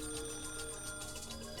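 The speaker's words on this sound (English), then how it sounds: "At that point, the phone rang." A telephone rings in the Higurashi When They Cry visual novel game, a steady electronic trilling ring that repeats through the short moment with no one speaking.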